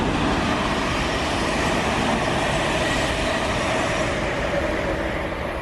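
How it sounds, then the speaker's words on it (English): A long freight train rolls steadily past, a continuous broadband rumble and clatter of wagons on the rails holding an even loudness throughout with no talking. "this freight tumbling down the track should be Lawless Street to Felixstowe"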